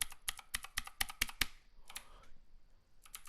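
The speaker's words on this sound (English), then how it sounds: "is forwarding the video ever so slightly using these two keys on my keyboard. You can hear them going, can't you?" Two computer keyboard keys are tapped repeatedly to step through a video frame by frame, a quick run of crisp close clicks, then a pause and a few more taps.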